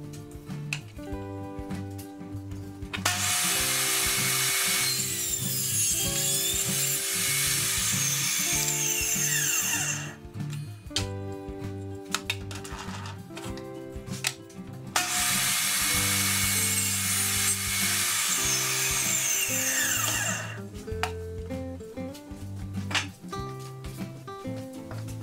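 A power tool cuts scrap wood at a 30-degree angle for a phone stand, in two long, loud, harsh bursts separated by quieter motor spin-down and handling noises.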